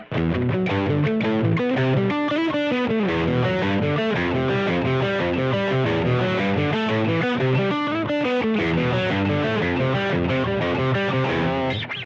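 An electric guitar runs through the Maximus drive on a Tone Master Pro stereo rig, playing a dense distorted breakdown riff with chugging chords, loud and continuous with no talking.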